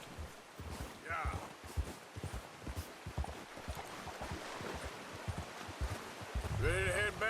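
Horse hooves clip-clopping at a walk in Red Dead Redemption 2, a faint steady run of soft hoof beats amid outdoor ambience, with voices talking over them.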